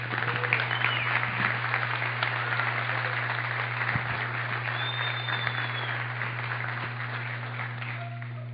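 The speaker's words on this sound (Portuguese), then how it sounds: "Uma salva de palmas." Audience applause for Basílio, the 1977 São Paulo champion, at a tribute event, a continuous dense clapping wash over a steady low electrical hum, lasting around eight seconds.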